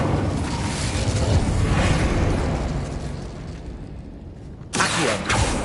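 A Bombarda blasting spell going off in a Harry Potter video game: a sustained, rumbling explosion with broad crackling debris that fades, then a second sharp burst near the end.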